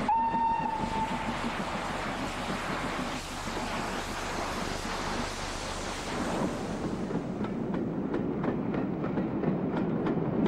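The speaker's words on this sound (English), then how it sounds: "The train evoked memories of the 50s and 60s as it left the seaside town" A preserved steam locomotive pulls out of a seaside town on a Barmouth to Shrewsbury excursion, with a whistle near the start and a steady rumble and rolling of the carriages. Rhythmic chuffing grows more distinct toward the end, and the train stays fairly loud throughout.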